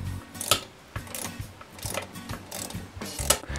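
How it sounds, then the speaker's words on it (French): Ratchet wrench loosening scooter exhaust bolts, quick bursts of clicking pawl ratchets repeated in short strokes, close and crisp with brief pauses between. "Le mieux, c'est d'utiliser des clés à cliquet."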